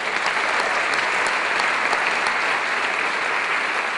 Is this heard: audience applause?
yes